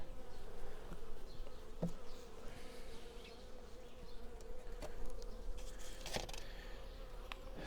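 Honey bees hum in a dense, steady drone around hive frames at an apiary while the nests are prepared for winter. The buzzing is close and continuous, with no talk.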